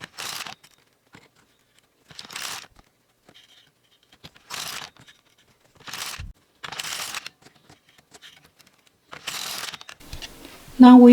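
An LK150 knitting machine carriage is pushed back and forth while knitting a sock, each pass giving a short ratcheting rasp, about six evenly spaced strokes with quiet gaps, ending in a brief louder clatter.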